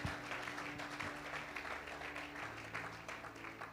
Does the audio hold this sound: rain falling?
no